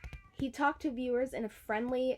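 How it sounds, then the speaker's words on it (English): A house cat meows in the background while a person reads aloud nearby, its drawn-out, wavering cries overlapping and blending with the speech. "Please excuse my cat in the background."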